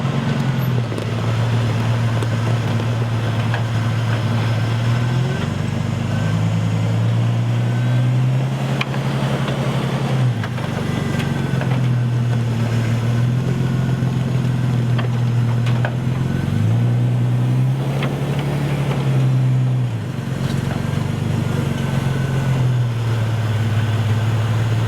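A Jeep engine revs and idles as the vehicle is driven up onto a trailer, a steady low drone rising and falling in several surges, close and loud with no talk.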